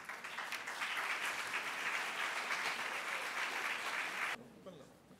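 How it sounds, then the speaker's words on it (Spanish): An audience at a university architecture presentation gives a strong round of applause, dense and sustained for about four seconds before stopping abruptly into quiet room tone. "Un fuerte aplauso, por favor"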